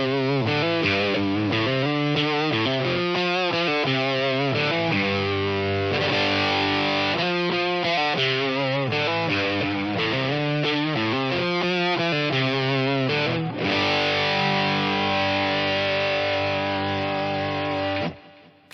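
Electric guitar played through distortion, chorus, delay and reverb, with crunchy riffs and chords followed by a held, ringing chord that trails off, loud and alone.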